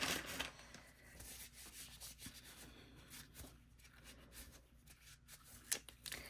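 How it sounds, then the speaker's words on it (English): Black paint being wiped off a surface with a wipe, soft continuous rubbing and scuffing strokes, close and faint, with no talking. "try to take most of that off with my wipey again"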